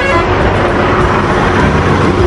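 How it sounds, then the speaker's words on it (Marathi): Traffic crosses a bridge over a flooded river, a loud, continuous roar of road vehicles with a low rumble close by and no clear breaks or voices. "पुलावरनं सगळी ट्रॅफिक चाललेली आहे"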